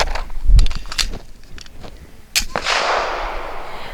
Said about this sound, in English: the first course through the Strike 1 will be some heavy duty, heavy shot, frangible,